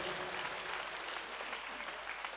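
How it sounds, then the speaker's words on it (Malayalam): A congregation claps together at a Malayalam healing service, a steady dense wash of many hands heard at moderate distance and continuing for the whole stretch without pause. "എല്ലാവരും ഒന്ന് കൈയടിച്ചേ."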